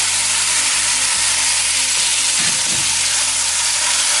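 Chicken pieces frying in a pan for Arabian chicken kabsa give a loud, steady, close sizzle. A few stirring scrapes show through partway, and no one speaks.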